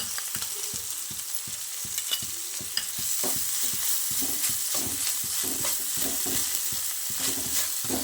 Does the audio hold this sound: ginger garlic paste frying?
yes